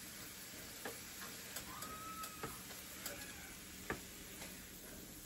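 Meat sautéing in a pan for oyster and sausage dressing, a steady faint sizzle with scattered soft ticks and pops from the spattering fat, no voices.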